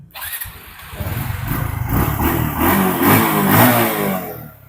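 A motorcycle engine cranks, catches and settles into a steady, loud idle with slight rises in revs, recorded up close.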